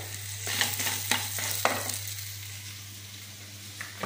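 Crab roasting in a pan for a Tamil-style crab fry, with a steady close sizzle and crackle and a few sharp stirring scrapes. There is no talk.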